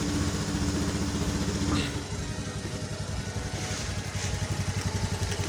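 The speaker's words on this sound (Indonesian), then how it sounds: "kita bisa melihat dari suara mesinnya itu agak tersendat-sendat berat saat masih dingin" A Honda Scoopy automatic scooter idles roughly from a cold start after sitting overnight, its close, steady engine throb faltering and uneven, with a voice talking over it.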